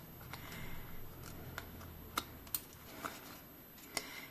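A few faint, crisp snips of scissors trimming paper that overhangs the page of a small handmade junk journal, spaced irregularly over a quiet room background.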